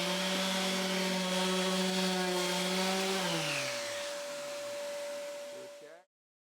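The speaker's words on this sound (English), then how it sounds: "I've just got to sand these down." Steady whirring buzz of a power sander with 80 grit paper grinding against wood drawers for several seconds, pitch dropping as the motor winds down and stops.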